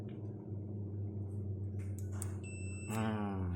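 A multimeter beeps in continuity mode while probing a short-circuited capacitor on the board of a dead LGSAT satellite receiver, a steady tone held against a constant electrical hum with clicks from the probes.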